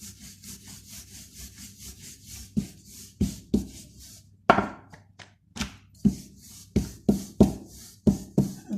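A wooden rolling pin rolls out shakarpara dough on a board in a home kitchen, giving soft rhythmic rubbing strokes and repeated knocks, close and steady with no talking.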